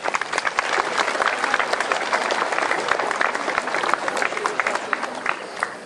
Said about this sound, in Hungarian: szerintem megérdemelnek egy nagy tapsot